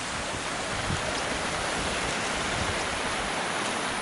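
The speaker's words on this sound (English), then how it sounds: "The river is really low today." A low river runs past a second bridge on a glen walk, its steady broadband rush of shallow water continuing evenly without a break, close and constant with no talk over it.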